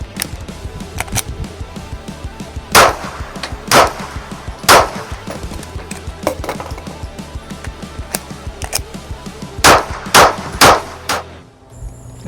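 Handgun shots at an outdoor shooting range, likely a PSA Dagger pistol or a Taurus 605 revolver, fired as loud sharp cracks at uneven intervals, some spaced a second apart, others clustered, with faint shuffling between them.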